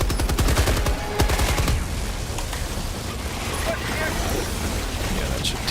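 Rapid bursts of video-game rifle fire from a Liberator, loud and dense for the first two seconds, then a steadier rumble of distant shots and explosions under voices.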